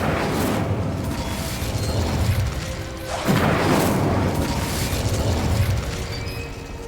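An Incendio fire spell from Hogwarts Legacy erupts as a loud, roaring whoosh of flame. A heavy burst comes near the start and a second surge follows midway, over a dense, rumbling magical backdrop with no talking.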